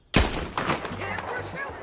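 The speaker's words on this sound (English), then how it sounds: "Yes, we're shooting." Gunfire rings out in Red Dead Redemption 2, with a sharp loud shot followed by a second blast about half a second later, each trailing off in echo.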